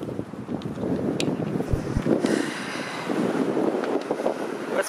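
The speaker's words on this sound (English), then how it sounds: "Oh, it's windy." Steady wind buffeting the microphone on a cold day along Corporate Drive and Bellamy Road North in Scarborough, Toronto, with a low rumbling roar, continuous and fairly loud, with faint traffic-like noise underneath.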